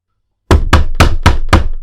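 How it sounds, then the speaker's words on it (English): Five firm, evenly spaced knocks on a door, loud and close with a hollow thump to each strike, following a moment of silence. "Knocking."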